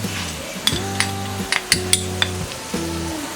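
Garam masala, coriander, cumin, pav bhaji masala and Kashmiri chilli powders are stirred into Mumbai-style tawa pulao in a pan: a constant frying sizzle with repeated sharp scrapes and clinks of the spoon, plus a voice-like hum.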